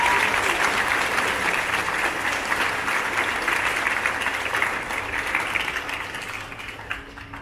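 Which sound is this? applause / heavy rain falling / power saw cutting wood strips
applause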